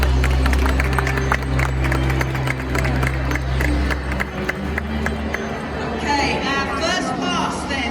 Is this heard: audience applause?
yes